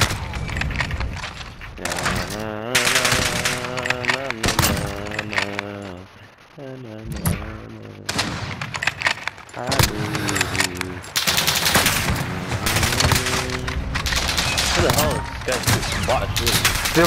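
Light machine gun fire in Call of Duty: Modern Warfare comes in long, rapid bursts broken by short pauses, loud and close, while voices talk over much of the shooting.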